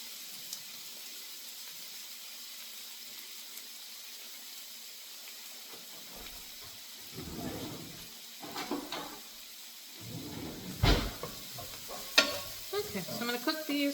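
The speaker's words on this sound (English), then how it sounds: "Now I'm gonna add my onions." Onions hit a hot pan on the stove, starting as a faint steady hiss that swells into louder sizzling with scraping and stirring clatter toward the end; no talking.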